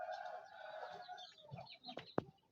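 Small village chickens of the kampung type clucking close by in a farmyard in Pidie Jaya, Aceh, with soft overlapping calls and a few sharper, louder clucks near the end.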